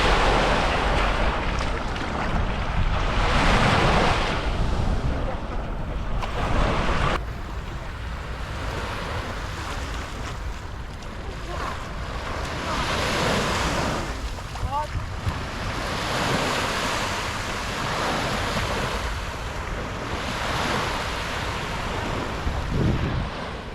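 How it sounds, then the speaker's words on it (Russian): Balearic Sea waves wash and roll continuously onto the beach at Palmanova, Mallorca, with gusts of wind buffeting the microphone throughout, loud and near. "А вот и оно, теплое и чистое Балиарское море."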